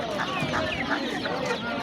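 Roosters and other poultry cluck repeatedly at a bustling bird market in Hazorasp, with several short calls rising over a busy background murmur.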